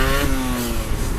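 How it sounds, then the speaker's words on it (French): Motorcycle following close behind a 125cc rider, its engine revving with a rising then falling tone over loud wind rush, near and fairly loud. "il y a un collègue derrière en moto"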